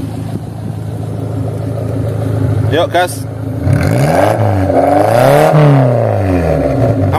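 A 1997 Suzuki Carry with a 1.0-litre engine revs up during an exhaust check, rising and falling in loud close sweeps after a brief idle, with people talking nearby.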